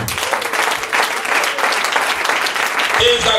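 A church congregation claps and cheers for Jesus at a French-language worship service, with dense sustained applause and crowd noise filling the space throughout, close and loud.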